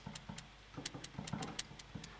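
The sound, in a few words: two layered hi-hat samples playing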